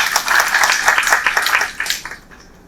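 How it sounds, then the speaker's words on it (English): Audience applause, a dense steady clatter of many hands, fairly close, fading out over the last half second. "A big round of applause for him."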